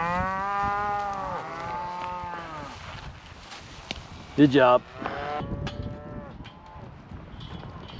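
Cattle on a mountain cattle drive give several long, drawn-out moos, some near and some farther off, with someone briefly speaking and a short knock or clatter partway through.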